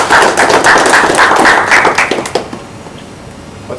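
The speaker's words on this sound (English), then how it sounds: "they deserve a round of applause" Crowd applause for the staff at a Warriors team gathering, dense clapping running loud and steady for a couple of seconds before thinning out and fading into quiet.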